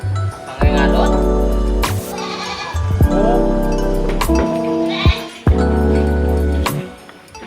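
A goat in labour bleats loudly and repeatedly on a farm, long wavering cries close to the listener separated by short pauses, with low background murmurs between calls.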